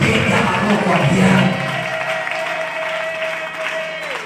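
Church congregation applauding loudly at an evangelistic campaign service, a dense burst of clapping that swells, then gives way to a sustained tone under lighter clapping.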